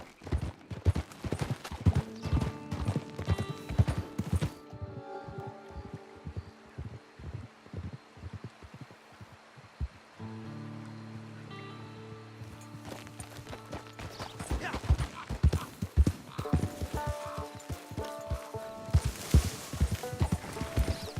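Steady clip-clop of horse hooves on hard ground in the video game Red Dead Redemption 2 Online, rhythmic and fairly close, with wind and a brief soft musical swell in the middle.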